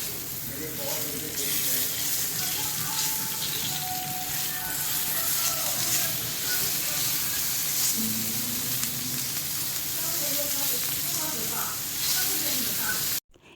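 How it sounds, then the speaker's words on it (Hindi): Okra (bhindi) frying in a little oil on an Indian tawa, a continuous dense sizzle with scattered crackles and faint stirring, steady and close for the whole stretch. "तो तवे पे मैंने थोड़ा सा तेल डाल लिया है और बस इसी में मैं भिंडी डाल"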